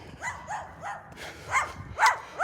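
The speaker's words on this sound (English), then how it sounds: "I got a little puppy dog on the loose over here" A little poodle puppy yapping close by, a quick run of about six short, high barks and yips, growing louder toward the end.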